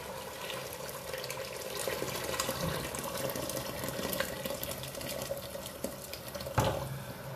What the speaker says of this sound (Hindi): अब हमने इसके अंदर डालना है पानी।